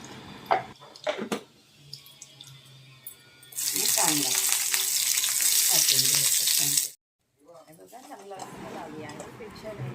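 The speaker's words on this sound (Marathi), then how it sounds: "आता थोडंसं तूप घ्यायचं आणि आपलं कांदा आणि टोमॅटो फ्राय करायचा" Onion and tomato frying in ghee, with a loud, even sizzle that starts abruptly after some clatter and speech, cuts off briefly, then resumes more quietly, with a person talking before and after.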